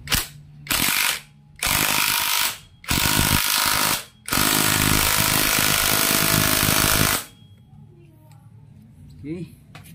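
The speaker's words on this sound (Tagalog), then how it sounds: "higpitan na muna natin mga kaduit para diretso na tayo." Honda Wave 125i motorcycle bolts worked with a ratchet during a restoration: loud, sustained bursts of rapid clicking in several runs separated by short pauses, then a quieter stretch with faint background sounds.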